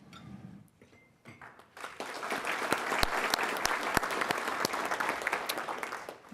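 An audience at an awards ceremony breaks into applause: a few scattered claps and a voice first, then full, sustained clapping filling the room for several seconds.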